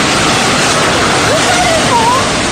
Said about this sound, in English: A wall of water and mud collecting everything in its way.